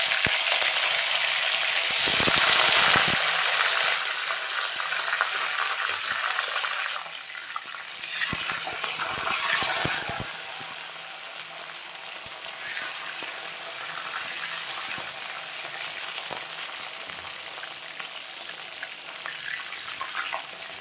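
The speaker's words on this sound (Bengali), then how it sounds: "এখন আমি ইলিশ মাছের মাথাটা দিয়ে দেবো" A hilsa fish head drops into hot oil in a pan already frying bay leaf, bursting into a loud, close sizzle that settles into a steady softer crackle with occasional stirring clinks.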